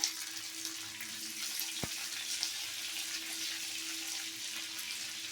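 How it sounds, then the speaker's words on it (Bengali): Pieces of chilli chicken fry in a pan, a steady soft sizzle continuing evenly throughout with one brief sharp click midway. "একটুখানি ভেজে নিয়ে দেখুন হালকা একদম ব্রাউন হয়েছে"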